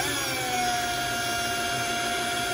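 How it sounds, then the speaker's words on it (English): A power drill runs continuously, steady and loud, as it clears the mount case cavity of a Honda BF75D/BF90D outboard motor during cooling system maintenance, with no talk over it. "with the drill in there, you can see that I've got it all the way inserted all the way through to this"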